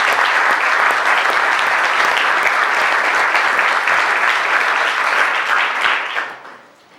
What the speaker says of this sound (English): I think a round of applause for 6.